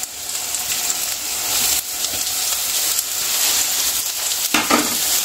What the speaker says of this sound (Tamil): வெங்காயம் சேர்த்துட்டு வெங்காயமும் வதக்கிக்கலாம்.